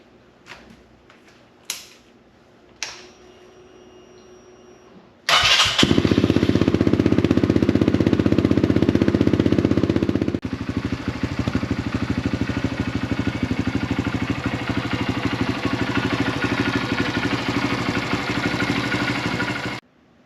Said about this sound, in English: we let this motor run for 3 or 4 minutes till it was warm to the touch